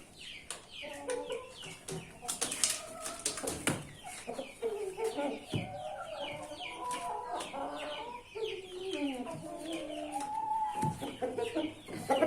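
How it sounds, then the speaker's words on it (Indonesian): Indio Gigante chickens cluck and chatter close by in a steady run of clucks, with a soft voice and faint handling noise under the calls. "Jadi ini teman-teman ayam Indio Gigantenya."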